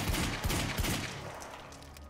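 Heavy pistol gunfire in the action game Quantum Break: a few loud, close shots crack over a dense, roaring battle din that fades slightly over two seconds.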